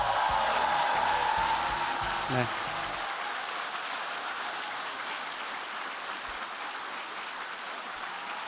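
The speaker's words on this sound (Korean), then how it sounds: "서로를 위해서 박수." Broad, steady applause from a crowd at a youth policy forum fills the hall throughout, with a voice speaking over the start before the clapping carries on alone.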